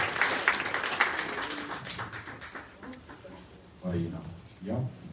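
Applause rises from the audience at an Estonian book launch for a biography of Kerdo Mölder, moderately loud claps filling the first few seconds and tapering off as voices begin talking.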